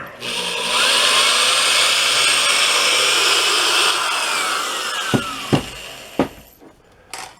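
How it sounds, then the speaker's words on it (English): A power drill whines steadily as it bores into a wooden log, its pitch dropping near the end, followed by a few sharp knocks and taps. "Start out drilling a hole."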